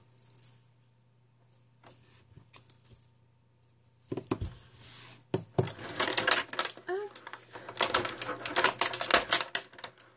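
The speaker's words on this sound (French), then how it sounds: "Désolée si je fais du bruit, c'est du plastique." Crinkly plastic packaging rustles and crackles up close, loud bursts of handling after a quiet opening with faint movement.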